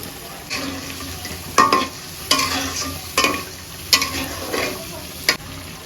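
Quail meat goes into a pan of spiced masala, with salt and sour yogurt, for a village-style quail dum biryani. A steady sizzle runs throughout, with a spatula scraping and knocking in sharp, regular bursts.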